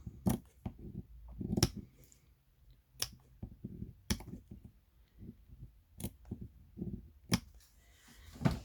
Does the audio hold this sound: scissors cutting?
yes